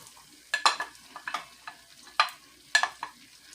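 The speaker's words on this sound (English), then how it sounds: "Now we add the garlic." Garlic added to a pot for a seafood boil, cooking with soft sizzling and a series of irregular scraping, stirring bursts up close, no talk.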